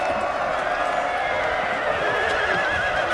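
Cavalry horses neigh and whinny continuously amid the clatter of a Napoleonic battle in the strategy game Napoleon Total War, the cries loud and overlapping with no pauses.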